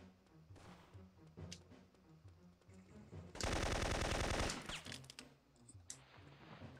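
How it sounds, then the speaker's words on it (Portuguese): Sustained burst of automatic gunfire in the video game Syphon Filter 3, loud and rapid for about a second, set among quieter game sounds and scattered shots before and after. "Os caras já estão metendo bala em mim já."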